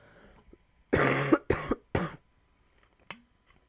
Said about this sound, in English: this is what happens when I cough a lot